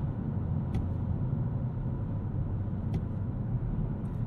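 A 2022 Kia K5's engine hums steadily at close range, low rumble with faint rises in revs as it shifts down through gears.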